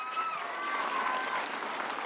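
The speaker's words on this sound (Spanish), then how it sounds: "la doctora Claudia Sheinbaum Pardo, a quien recibimos con un fuerte aplauso." Applause from the crowd at a public assembly in Amealco de Bonfil, Querétaro, as the constitutional president is welcomed: steady, dense clapping at moderate level lasting the full stretch, with some voices mixed in.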